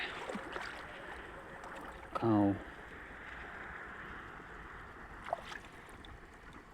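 Irrigation water flowing through a channel into a wheat field, a soft continuous trickle and gurgle under a man's speech, with a brief louder burst in the middle.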